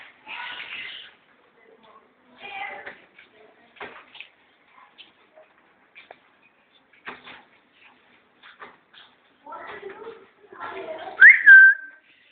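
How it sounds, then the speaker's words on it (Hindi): A pet parrot whistles on command, a short bright rising whistle near the end following scattered softer chirps and calls, close and fairly loud with no talking over it. "चलो सीटी बजाओ, सीटी"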